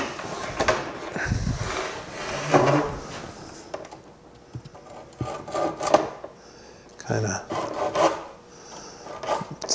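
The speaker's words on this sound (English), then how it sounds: "Just use the Japanese saw." A Japanese pull saw cutting into wood during a furniture repair, with irregular rasping strokes in bursts separated by short pauses, close and moderately loud.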